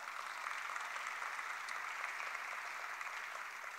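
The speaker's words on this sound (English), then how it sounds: "So a round of applause for them as well." Audience applause at a dedication ceremony for an indoor tennis center, a steady dense clatter of many hands clapping throughout, fairly faint and distant with no voices over it.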